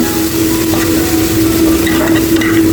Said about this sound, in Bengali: তারপর টমেটো সসের মধ্যে চিকেনগুলোকে খুব ভালো করে মিক্স করে নিচ্ছি